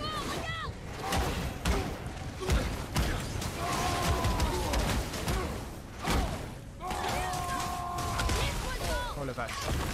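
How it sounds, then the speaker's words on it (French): Explosions and combat impacts in the video game God of War, with thuds and booming hits scattered through a busy game soundtrack, heard under a player's excited talk. "Ah, c'est son explosion."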